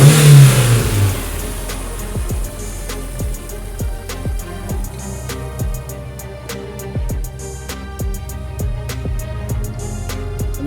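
A Rover K series VVC car engine revs loudly up close, with a strong opening rise and then steady mid-range running and repeated throttle blips. No one speaks.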